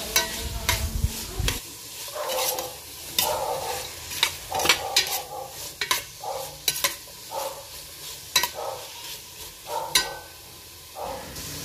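Carrots sizzle in a pot of sopas while being stirred, with repeated scraping and clattering stirs over a steady frying hiss, close by and without talk.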